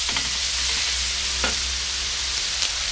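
Pork stir-frying in a pan for Isan-style dry suki, a steady close sizzle with a few brief scraping stirs of the spatula, no voices.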